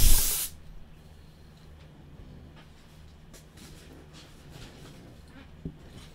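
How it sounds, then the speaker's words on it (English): Cleaner sprays onto a surface to clear lint from trading card boxes in one short, loud, close hiss, then fades into quiet room noise with faint handling sounds. "Let me get the surface here real quick, spray it off."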